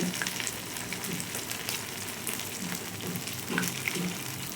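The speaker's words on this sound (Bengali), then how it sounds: "বেশ একটু লাল লাল করে ভাজতে হবে" Vada fry in hot oil with a steady, moderate sizzle and crackle, close up, with occasional faint pops and no talking.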